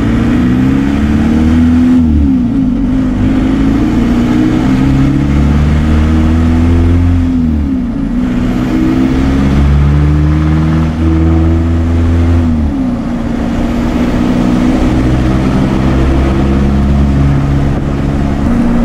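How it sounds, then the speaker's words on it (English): A TDI-swapped Toyota pickup engine pulls steadily on a road drive. Its loud, close drone climbs and falls through repeated acceleration and gear changes, and it fills the whole stretch without any talk. "So we need to bring it out for a drive"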